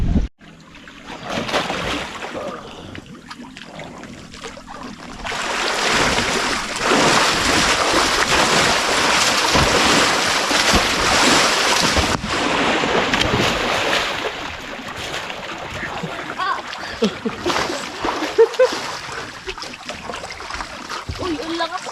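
Rough sea churns and splashes around a small boat, building to a loud, steady wash of rushing water and spray that swells and eases, with a voice speaking briefly at times.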